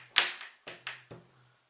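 A pen tapped out a basic rock drum beat: sharp, dry clicks and knocks in a quick uneven pattern, five hits with a low thud under some, close and fairly loud with nothing else around.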